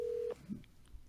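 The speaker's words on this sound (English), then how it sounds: "There's a ring." Phone dialing, a single steady tone cut off by a short burst of key beeps, then scattered faint tones and clicks, quiet and close.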